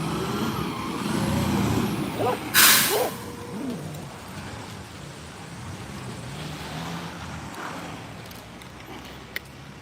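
A garbage truck with air brakes and a mechanical arm picks up a trash can on a residential street: a rumbling diesel engine, a sharp hiss of air brakes, then whining hydraulics and clanks fading under steady engine idle.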